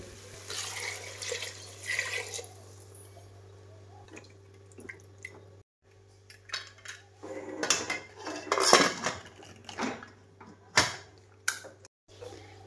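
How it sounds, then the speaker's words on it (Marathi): Water poured into a pressure cooker of chicken, then the metal lid clanked and fitted shut: splashing and dripping give way to sharp pot-and-lid knocks and scrapes, with a voice talking nearby. "आता पाणी ओतते आणि कुकरचं झाकण लावून घेते"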